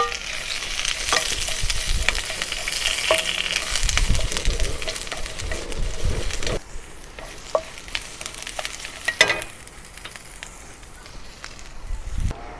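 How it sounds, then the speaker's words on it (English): Spring onion, garlic and ginger sauté in a pan as aromatics for slow-cooked Chinese-style pork hock: a steady sizzle with frequent scraping stirs and clicks, easing to a quieter hiss about halfway through. "Saute the spring onion, garlic and ginger until aromatic."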